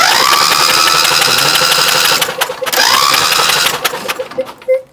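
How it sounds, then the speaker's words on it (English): A zero-turn lawn mower engine with both spark plugs removed cranks over on the starter, a fast steady whirring that runs continuously, pauses briefly, resumes, and then winds down near the end. "And then you're going to want to crank the engine over."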